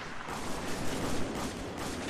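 Gunfire in a multiplayer match of Spec Ops The Line, with a continuous dense rattle of shots and pulsing reports with no clear gaps between them.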